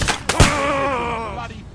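A few sharp gunshots crack at the start in a battle scene from the video game Kingdom Come Deliverance 2, followed by a sustained shouting voice over the noise.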